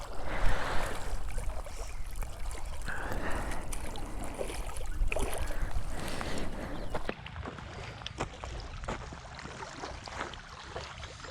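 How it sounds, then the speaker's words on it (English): Water at Gundamagere Lake splashes and rushes in a steady broadband wash, close and moderately loud throughout, with a brief faint voice partway through. "You can hear the water sound."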